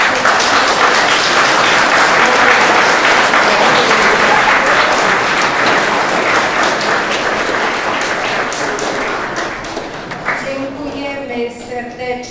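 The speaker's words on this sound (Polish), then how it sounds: "Państwa, brawa!" Sustained audience applause at a school Education Day event in Rzeszów, loud and dense for about ten seconds before thinning out as a speaker's voice and faint music emerge near the end.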